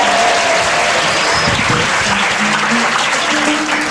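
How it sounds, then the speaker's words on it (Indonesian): An audience at an Islamic religious talk bursts into dense, continuous applause for a student named Faisal, loud and steady across the whole moment, with faint voices mixed in. "Tepuk tangannya buat Faisal."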